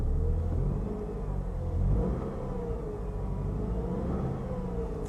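A GMC wagon's engine, low on coolant, runs at close range with a steady rumble and a rise in revs near the two-second mark, then settles into a continuous drone with no voices.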